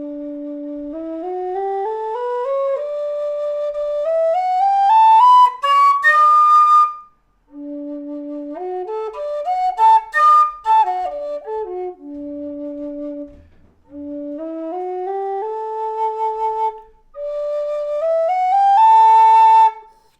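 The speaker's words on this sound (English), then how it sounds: "I hope you're getting a good sense of some of the tone differences between the different whistles" Several low D tin whistles play in turn, one with offset holes on the third and sixth holes, each rising through a scale of breathy, pure tones then stepping back down, close and fairly loud with short pauses between phrases.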